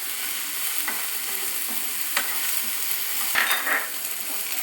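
Cumin seeds sauté in a hot pan for rasam, giving a constant close sizzle with intermittent stirring scrapes and a couple of sharper utensil knocks, without any talk.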